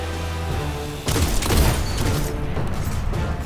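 Sniper fire and explosive impacts from the video game Destiny, a sudden loud burst after a quieter start, followed by sustained rumbling, crashing action.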